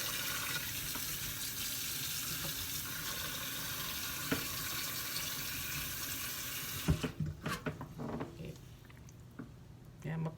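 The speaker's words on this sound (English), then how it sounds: "A little bit more water to cover my peppers" Tap water runs steadily into a pot holding peppers, a continuous hiss for about seven seconds before it cuts off, followed by faint clinks and handling sounds.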